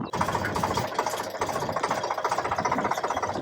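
A farm tractor's engine runs in a fast, even chugging pulse close by, with a steady knocking rhythm and vibration throughout and a few voices talking over it.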